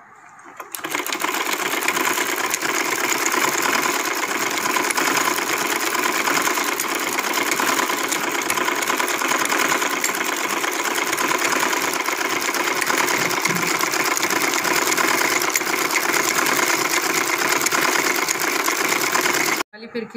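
A sewing machine runs steadily at full speed for about twenty seconds, a loud continuous mechanical whir that starts and stops abruptly.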